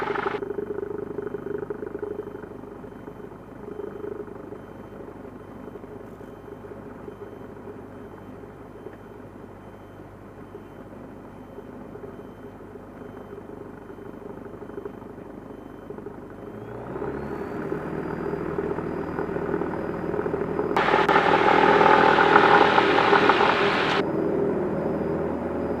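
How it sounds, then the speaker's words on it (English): A CASA aircraft on a downwind departure takeoff holds a steady engine drone in the cabin, rising in pitch and intensity as power builds, with a louder rushing burst toward the end. "We'll be departing, we're making a downwind departure."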